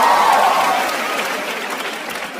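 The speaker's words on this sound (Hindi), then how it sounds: "एक बार जोरदार ताली बजा दो सबके लिए भाई" An audience at a live comedy show claps loudly, a thick wash of applause that starts strong and gradually thins and fades toward the end.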